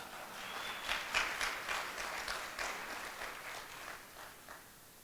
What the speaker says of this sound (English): Applaud, applaud, applaud.